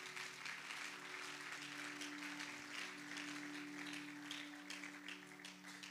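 Congregation applauding during a church service, steady sustained clapping throughout, filling the room alongside a low sustained musical drone.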